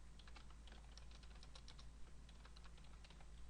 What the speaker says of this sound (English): you can just type it right here